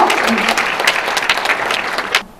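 A lecture audience gives a guest speaker a welcoming round of clapping, loud and dense with a few sharp individual claps, fading out abruptly near the end.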